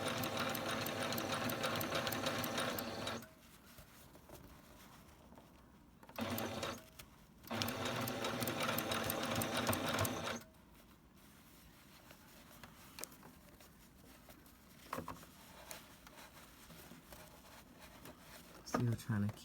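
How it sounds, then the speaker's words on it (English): A domestic sewing machine stitches across a sleeve dart in two loud, steady whirring bursts, with a brief stutter of stitching between them, followed by quieter handling of fabric and faint clicks. "And then we're just going to sew straight across that."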